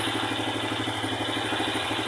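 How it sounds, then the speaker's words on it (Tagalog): Motorcycle or small engine running after a fuel-system gas treatment, a steady loud droning hum with a fast regular pulse, close and continuous without a clear rise in revs. "napaka-expansive ng makina, yung ikot ng makina"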